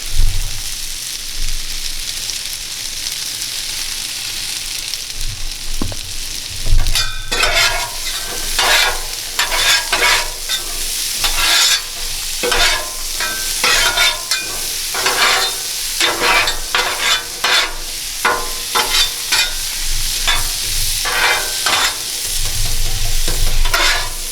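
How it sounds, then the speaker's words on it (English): Steady crackling sizzle of potatoes frying in hot oil, with dense popping bursts that rise and fall, close and fairly loud, no voices. "I'm just gonna throw my potatoes right on top of that oil"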